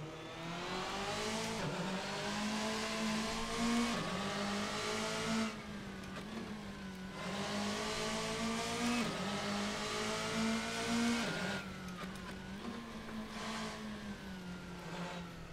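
A modded car in the Assetto Corsa racing game drives with a loud, droning engine that revs up and down in repeated waves, dipping between gear changes, with faint tyre squeal.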